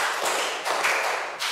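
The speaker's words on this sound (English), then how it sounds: "Good job, three big claps." Three loud, close hand claps ring out one after another in a quick, even rhythm, with no voices heard alongside them.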